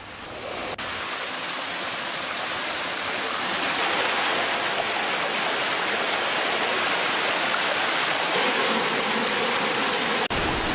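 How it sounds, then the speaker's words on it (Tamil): Heavy water pouring down a waterfall in Yercaud after heavy rain, a steady, loud, broad roar that holds unbroken throughout with no voices. "நீர்வீழ்ச்சிகளிலும் தண்ணீர் வழிந்தோடுவதால் சுற்றுலா பயணிகளும் மகிழ்ச்சியடைந்துள்ளனர்"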